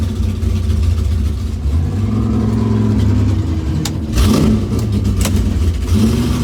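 A 1965 Impala SS engine idles roughly, then revs hard at a drag strip burnout box, a loud, close, throaty rumble with sharp surges in pitch and a brief blip near the end.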